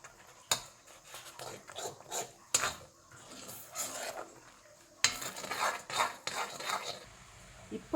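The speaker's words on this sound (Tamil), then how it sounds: "இப்போ கிளறி கொடுத்துட்டே இருக்கேன்." Spoon scrapes and stirs jackfruit halwa in a pan on the stove, repeated soft rasping strokes in an uneven rhythm, fairly quiet and close.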